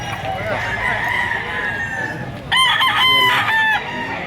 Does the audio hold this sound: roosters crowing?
yes